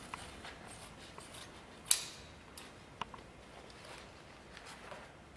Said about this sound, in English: I'm going to cut one of those U sections here, and that's going to allow the pad to wrap around.